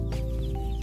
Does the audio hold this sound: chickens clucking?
yes